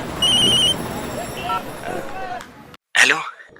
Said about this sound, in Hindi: कब से फोन बज रहा है, उठाओ ना इसको